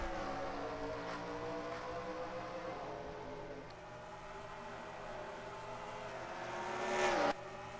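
Race cars in a racing video game roar off together at the start of the Krystal Night Race, a dense, continuous engine drone rising in pitch as they accelerate before cutting off sharply near the end.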